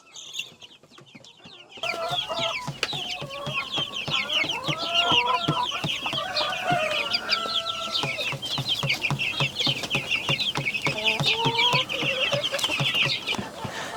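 Chickens and chicks cluck and cheep continuously in a busy flock after a quiet start, close and fairly loud.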